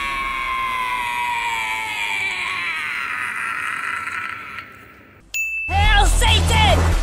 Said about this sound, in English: This is a scream.